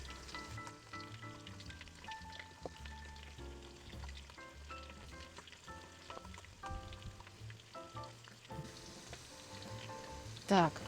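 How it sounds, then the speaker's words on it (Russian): Potatoes sizzle and crackle steadily in hot oil while cooking outdoors, a soft continuous frying hiss with faint music in the background. "А картошечка шкварчит. Такой классный звук."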